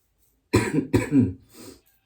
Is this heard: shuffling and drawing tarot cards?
no